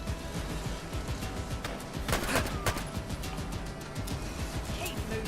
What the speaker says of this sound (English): that's some sort of rapid-fire gun